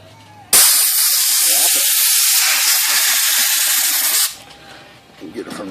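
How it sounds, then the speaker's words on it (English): A blast of compressed air blows out a vintage typewriter, a loud close hiss starting abruptly and holding steady for about four seconds before cutting off, followed by quieter handling sounds. "Just get some compressed air"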